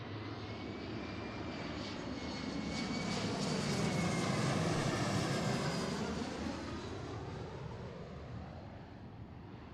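Embraer E175 airliner landing at Seattle airport, its jet engine roar swelling steadily as it passes fairly close, then gradually fading, with no voices.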